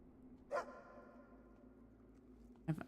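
A dog barks twice within a video game, two short, fairly clear woofs a couple of seconds apart over a quiet, humming background.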